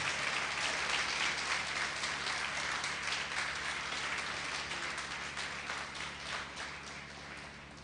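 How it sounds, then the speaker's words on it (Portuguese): A church congregation claps and applauds steadily for several seconds, a dense wash of hands that tapers slightly toward the end. "Pode aplaudir, se é para Jesus é mais forte."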